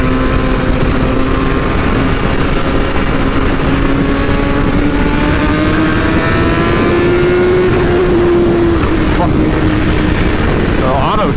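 A BMW S1000RR motorcycle engine drones loud and close while riding through traffic, its pitch climbing through a gear change, with heavy wind noise throughout.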